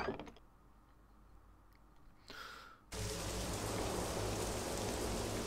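In the video game Morrowind, a few soft clicks give way to a sudden, steady hiss of heavy rain that continues evenly to the end.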